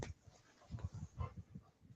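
A dog makes soft, muffled grunting and whimpering sounds in a quick irregular series, faint and close, with no talking.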